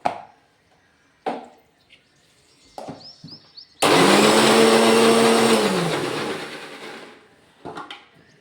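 A kitchen mixer grinder whirs loudly for about three seconds, grinding a paste, then winds down, framed by a few knocks and handling clatters before and after.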